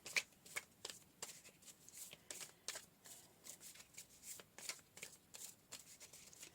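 Tarot cards being shuffled by hand, a steady run of crisp riffling flutters and soft slaps repeating about every half second, close and quiet with no voices.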